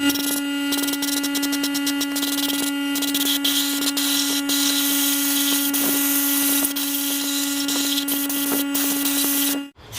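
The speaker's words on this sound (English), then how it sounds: "Just wanna sandblast the face of this valve before I start cleaning it up." Walnut media blasting carbon deposits off the face of an intake valve from a GMC Acadia 3.6L engine, a loud steady hissing rush with a constant tone running unbroken for about ten seconds, then cutting off abruptly.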